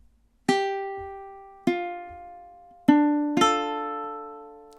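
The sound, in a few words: ukulele playing measure 8 of the MASH theme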